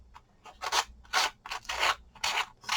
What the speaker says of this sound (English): I'm just using the Pouncer sander, the Tim Holtz.